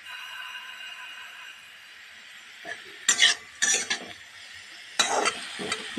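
Vegetables stir-fried in an iron wok over a gas flame, heard as a few separate bursts of scraping and stirring clatter over a faint background sizzle, close and moderately loud.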